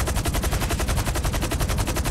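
Rapid automatic gunfire from an attack in GTA 5, a loud continuous burst of evenly spaced shots rattling without pause, alone with no talk.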